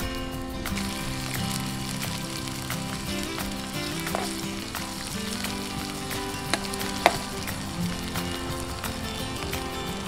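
Onions and garlic sizzle steadily in a pan for a spicy Indonesian sambal, a constant soft frying hiss with a few louder pops and occasional stirring, no talking.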